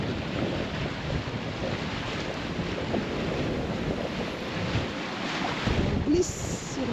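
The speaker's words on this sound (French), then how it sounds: "On glisse sur l'eau. 6 nœuds et demi." A sailing catamaran gliding over open water at about six and a half knots, with steady wind buffeting the microphone and the hull's constant rushing wash over the waves, loud and unbroken throughout.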